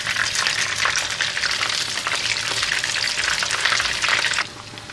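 Loud, steady sizzling and crackling of chicken breast pieces frying in hot oil, continuous and close, fading slightly at the very end.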